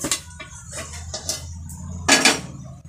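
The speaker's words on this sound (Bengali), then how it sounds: "থালার মধ্যে উল্টে দেব" Clattering metal as a fried egg-and-lentil fritter is flipped onto a steel plate, several sharp clinks and scrapes over a low steady stove hum, with one louder clang near the end.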